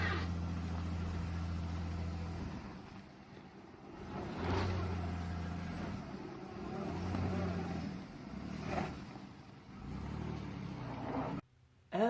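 A Jeep with the Quadra-Trac I system rolls backwards off-road, engine droning steadily with low rumble and occasional surges, fairly close, before abruptly cutting out near the end.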